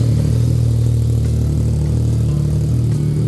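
A 2015 Yamaha FZ09 motorcycle engine idles after a cold start, giving a deep, steady, loud rumble close by with no change in pace and no voices.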